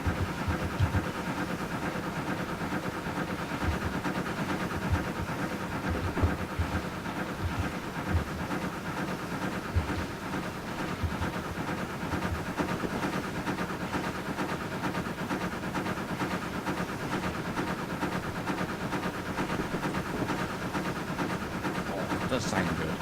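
A steam locomotive in a train simulator game labours uphill with a steady, continuous engine drone and rhythmic mechanical chatter that holds unbroken throughout.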